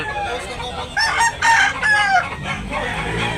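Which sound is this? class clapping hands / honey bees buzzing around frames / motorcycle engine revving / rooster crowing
rooster crowing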